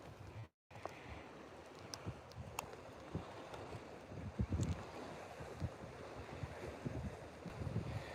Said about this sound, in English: the wind is blowing in a different direction